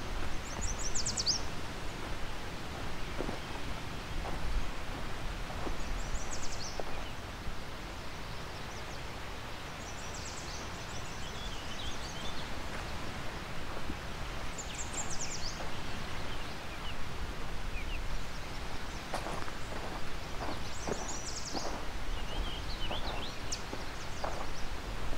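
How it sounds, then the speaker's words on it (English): Yellow warblers sing near the beach at Long Point, their short high phrases repeating every few seconds at a moderate distance over a steady background of wind, surf and rustling. "Quite a lot of yellow warblers here, everywhere I look."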